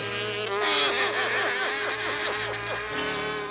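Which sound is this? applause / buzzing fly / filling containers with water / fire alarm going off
buzzing fly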